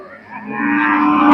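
A cow at a cattle market gives a single loud, drawn-out moo close by. The call rises and holds steady to the end.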